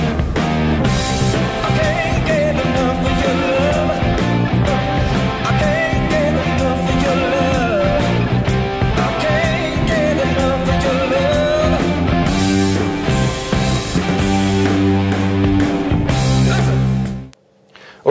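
Two electric guitars playing the chorus of a rock song in unison, a loud, driving rhythm part with strummed chords and drums, sustained for most of the passage before cutting off abruptly near the end.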